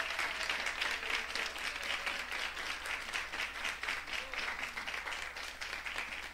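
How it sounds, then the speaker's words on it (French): An audience gives warm applause to welcome a guest singer onstage: a continuous, dense wash of clapping from many hands, even in loudness throughout and heard from a little distance. "sous vos chaleureux applaudissements."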